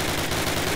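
Rapid gunfire at a target on a training range in Call of Duty, a steady burst of repeated shots filling the whole short moment at close range.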